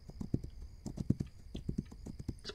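Horse hooves in the video game This Land is my Land clip-clopping in quick irregular bursts, fairly close and crisp, with faint background tones and no talking.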